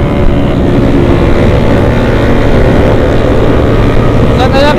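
A Kawasaki ZX sport motorcycle rides through a city at night, its engine a loud, steady drone of road and wind noise, briefly rising in pitch near the end.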